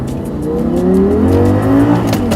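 An Audi R8 V10 with a six-speed manual gearbox revs hard, its pitch climbing steeply through quick gear changes, loud and close.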